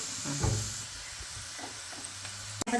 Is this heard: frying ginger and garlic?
yes